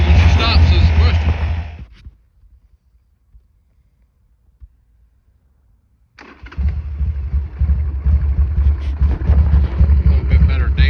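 A 2003 Harley-Davidson Sportster 1200 motorcycle engine runs loud and close with a rough, throbbing idle, cuts out for about four seconds, then fires back up and keeps running steadily.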